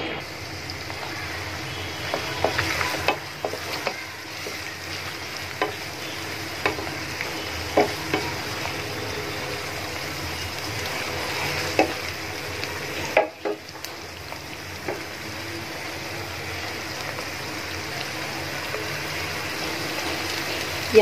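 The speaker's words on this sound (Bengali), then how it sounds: "পেঁয়াজটা একটু ভালো করে ভেজে নিতে হবে।" Onion paste fries in a pan for a hilsa fish curry, giving a soft, steady sizzle with scattered clicks and scrapes of stirring, fairly quiet throughout.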